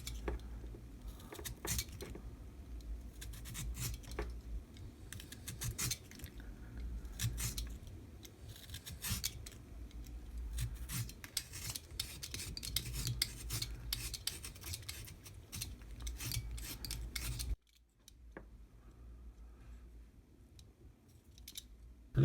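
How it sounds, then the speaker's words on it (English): A knife shaves and tapers a wooden ship mast held in a vise, giving rapid dry scraping strokes that run steadily for about seventeen seconds before a sudden near-silent pause. "I'm starting to shave obviously between the two sections that's going to make up the two sections of the mast."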